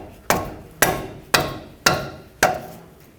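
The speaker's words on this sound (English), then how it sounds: "I'm going to use a rubber mallet to tap on the wrench and help break this free." A rubber mallet taps a 22mm wrench on a tie rod nut of a Chevrolet Express, five evenly spaced sharp knocks, each ringing briefly and decaying, close and clear with no talk.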